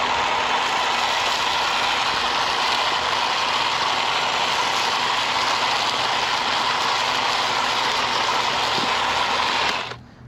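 A Ryobi outdoor power tool runs steadily and loudly for about ten seconds while working along lawn edges and sidewalk, a constant broadband motor whine that cuts off abruptly at the end.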